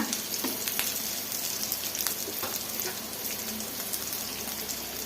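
Curry leaves fry in a hot pan for a spiced greens rasam, giving a steady, close crackling sizzle with scattered pops that runs on its own throughout.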